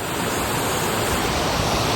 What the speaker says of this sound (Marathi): पाणी रे काय सांगू पाणी भाई हे बघा